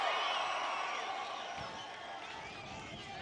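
A large crowd at a political rally at Sacramento International Airport makes a faint, distant roar of cheering and shouting, with talk mixed in throughout.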